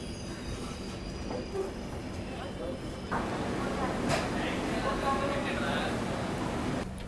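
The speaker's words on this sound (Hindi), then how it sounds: "फाइनली अपना अराइवल हो रहा है राजा मड्री रेलवे स्टेशन पे" Train pulling into Rajahmundry railway station in India, a steady rumbling rail roar with faint wheel squeal and station ambience, louder after a few seconds, with people talking in the background.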